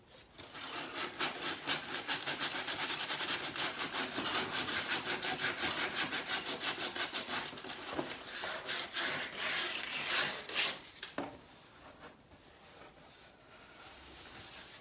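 Rapid back-and-forth rasping of sandpaper on a wooden edge, loud and rhythmic, slowing and fading out toward the end.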